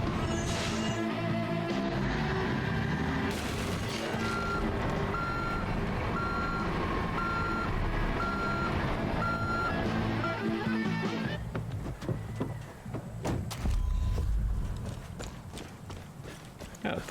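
A reversing truck in the video game Forspoken sends out a repeated electronic beep over game music and engine rumble, then the beeping cuts off and a crash with scattered thuds follows.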